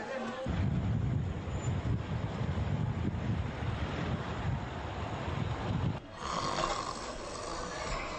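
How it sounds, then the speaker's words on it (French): Steady wind gusts outdoors at night, a broad rushing roar that buffets the microphone continuously and eases slightly near the end, with no voices. "Ah, il y a du beau vent."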